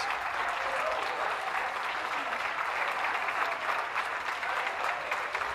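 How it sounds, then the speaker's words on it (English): Sustained clapping from a large crowd at a Blackpool dog show judging terrier, working and pastoral groups, an even, continuous roar of hands filling the hall without pauses. "And that is a good round of applause."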